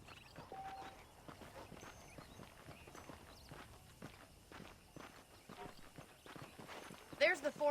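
A horse's hooves clip-clop steadily and fairly faintly in Red Dead Redemption, a regular rhythm of soft beats under ambient game sound, ending with a brief louder burst.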